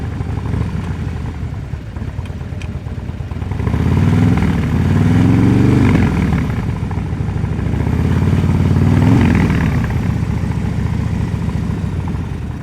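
Motorcycle engine during advanced slow-speed riding practice, a loud, close, steady idle-level rumble that swells twice with throttle as the bike turns, no speech.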